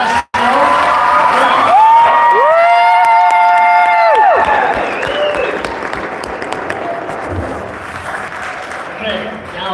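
Audience applause and cheering for a high school marching band, a dense crowd roar that starts loud and slowly thins, with a voice speaking over it and a rising whistle-like tone partway through.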